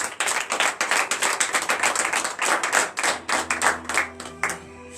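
A congregation at a morning prayer service in Benin claps in acclamation of the Lord, a lively, uneven rhythm of many hands close by, with a soft tone lingering at the end.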